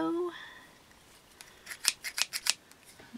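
Super Edge 8.5 inch sewing scissors snip through quilting fabric in a quick run of about six crisp, close cuts, following a brief voice at the start.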